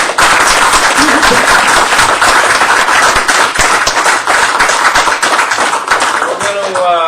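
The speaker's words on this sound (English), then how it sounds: "Please, a round of applause for all of Carol's efforts." A round of applause at a town board meeting, loud, close, crisp hand claps in a dense burst, with a voice briefly speaking as it ends.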